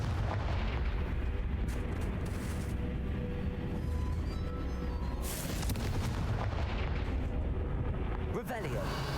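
Confringo fire-spell blasts in the Hogwarts Legacy video game on PC, a dense run of booming, crackling explosions over a continuous rumbling bed of game sound, with a sharper burst near the end.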